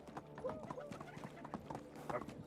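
Horse hooves clip-clop in a steady trotting rhythm in the medieval village game Medieval Dynasty, with voices talking over the hoofbeats.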